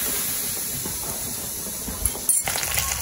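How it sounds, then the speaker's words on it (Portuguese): Garlic frying in oil in a pan with onion and butter, giving a steady broadband sizzle and hiss throughout, with a brief louder crackle near the end. "aqui eu tô dando uma fritada no alho"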